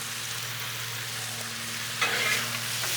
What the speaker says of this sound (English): Get the oil down and get the shrimps on. Man, I love that sound.